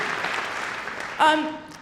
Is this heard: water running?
no